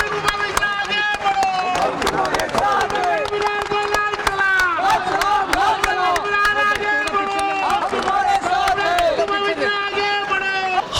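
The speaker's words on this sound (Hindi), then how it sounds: "तालियां।" Crowd clapping and cheering at a railway workers' union rally for Comrade Vijay Shinde in Mumbai, loud and steady throughout with dense crowd noise and background hubbub.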